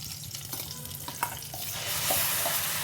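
Tomato and cashew paste sizzles in a pan, soft stirring clicks at first, then a louder, brighter frying hiss as it goes in.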